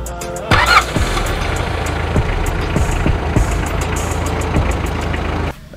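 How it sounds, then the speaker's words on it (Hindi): A 1990 Mitsubishi Pajero's 2.5-litre four-cylinder 4D56 diesel cranks, fires and settles into a loud, close, clattering idle with a steady knocking rhythm, heard alone. "नाज़रीन, अब आपको दिखाते हैं गाड़ी के इंजन की साउंड।"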